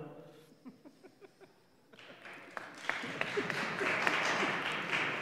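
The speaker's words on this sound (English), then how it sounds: "So clap all you want." Audience clapping in a Pennsylvania legislative chamber: a few separate claps and thumps at first, then a fuller, louder burst of applause building over the last few seconds.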